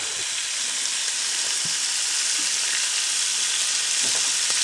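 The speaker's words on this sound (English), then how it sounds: "Listen to that sizzle." Constant crackling sizzle of bacon and potatoes frying in a pan, close and steady, with no voices.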